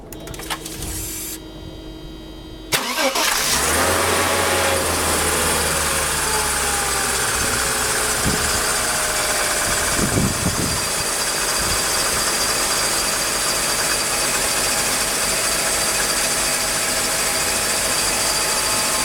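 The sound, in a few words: Mercedes M104 engine starting and idling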